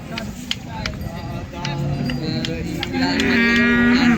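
Low drawn-out Jersey cow moos rise and hold near the end, over steady crowd chatter at a busy cattle market in Modnimb.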